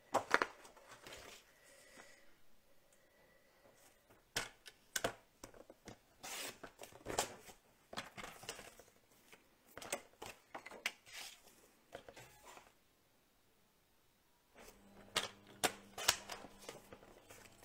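Paper being cut for card making, with scattered close snips, slices and rustles in bursts and pauses, quiet between, no talk.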